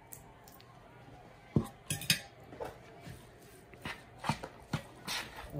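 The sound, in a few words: mixing butter into ingredients in a bowl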